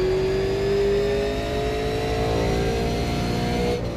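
A steady, droning Super Late Model race car engine in iRacing with a slowly rising pitch, as if accelerating in a low gear, continuous and loud throughout.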